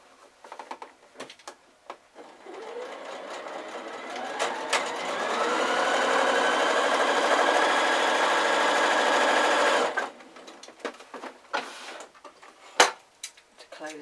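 A sewing machine runs steadily for about seven seconds of straight stitching over the opening of a drawstring bag, a fast even whir, framed by quiet handling clicks and rustles before and after.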